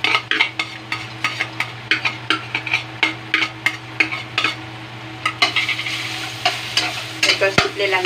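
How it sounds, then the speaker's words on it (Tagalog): Garlic fries in oil while a utensil stirs it in quick repeated strokes, a rhythmic series of loud scraping knocks over a continuous close sizzle. "Ngayon, luto ko muna itong bawang."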